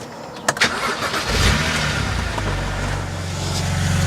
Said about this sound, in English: let's get the engine fired up just so we can get the oil nice and warm